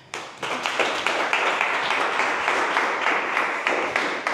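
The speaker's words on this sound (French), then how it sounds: "Applaudis pour l'association" An audience breaks into applause after a quiet start, loud rapid clapping from a roomful of people building within half a second and holding steady to the end.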